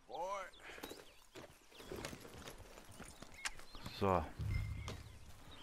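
Horse hooves clip-clop steadily while riding in Red Dead Redemption 2, toward the Valentine saloon, heard beneath near-constant German and English talk and game dialogue.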